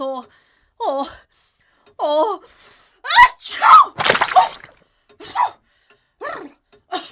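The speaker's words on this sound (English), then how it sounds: "I just needed a good sneeze." A person lets out a single strong, breathy sneeze partway through, with talking before and after it.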